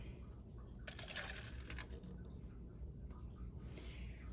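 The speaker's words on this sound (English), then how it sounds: "And now I'm going to add my sample of water." A water sample pours into a plastic cup sitting on a lab balance, a soft, faint trickle lasting a few seconds with a brighter splashing burst partway through.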